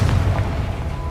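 A Confringo blasting spell explodes in Hogwarts Legacy, a single loud, deep boom that rumbles and decays over about a second.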